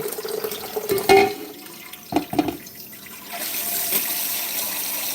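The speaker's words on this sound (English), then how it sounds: "I'm adding water to it to cook my pasta in" Tap water runs into a cooking pot for pasta in a home kitchen, with a few sharp clinks, then a steadier, hissing stream toward the end. There is no talk.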